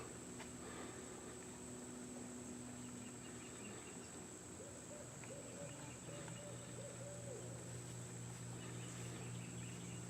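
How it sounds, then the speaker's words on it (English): A faint low hooting in the distance at night, a few soft repeated calls over a constant background of chirping crickets. "You can hear the owl."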